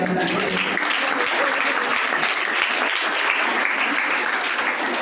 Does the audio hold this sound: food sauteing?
no